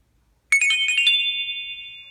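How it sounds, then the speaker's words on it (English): After a moment of silence, a Nokia 5000d-2 mobile phone plays a short run of bright electronic ringtone beeps. The final tone rings on and slowly fades. "Tones, so it just has loads of other little Nokia tune there"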